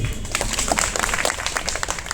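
Audience at a Gujarati spiritual discourse applauding, a dense burst of many hands clapping close by for a couple of seconds, no voices over it.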